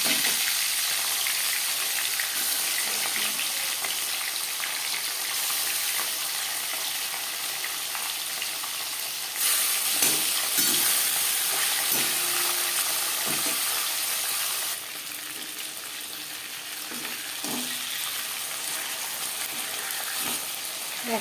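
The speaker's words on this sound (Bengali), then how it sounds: "মাছ ভাজবার জন্য বেশ খানিকটা রিফাইন্ড অয়েল গরম করে নিয়েছি। এবার দিয়ে দিলাম ম্যারিনেট করে রাখা মাছ।" Marinated boal fish frying in hot refined oil, a continuous loud sizzle and crackle that shifts in intensity, with occasional light clinks of a utensil.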